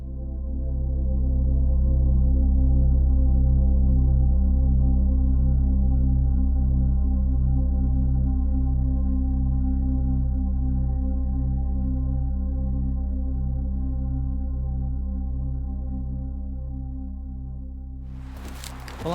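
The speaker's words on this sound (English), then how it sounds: "Apologies for the traffic noise." Road traffic rumbles steadily in the background for a long stretch, a low continuous drone that swells and slowly fades, with no voices.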